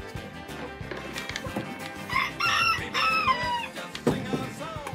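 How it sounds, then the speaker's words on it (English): A young rooster crows in a backyard chicken setup, a harsh drawn-out cock-a-doodle-doo rising and breaking near the mic, mixed with clucking from other chickens and rustling around it. "He's a younger rooster."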